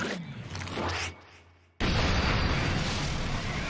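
A boss-defeat explosion from the Octobot King finale in Splatoon's Hero Mode: a rumbling blast fades away, then a sudden loud booming burst erupts and keeps roaring steadily.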